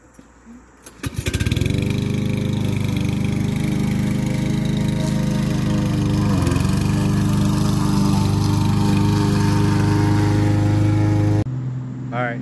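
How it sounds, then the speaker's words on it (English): A lawn mower engine runs at a steady, loud drone while mowing grass on a farm, kicking up after a brief start and holding an even rumble before cutting out near the end. "I'm gonna put this back on and finish mowing the grass"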